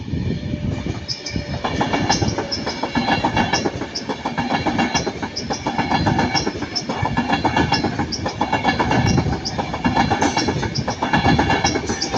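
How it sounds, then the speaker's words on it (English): A TransPennine Express Class 185 diesel unit passes close by at Ardwick, its steady rumble and rhythmic clickety-clack of wheels over rail joints filling the whole stretch at high, constant loudness. "passing by now the Transpennine 185"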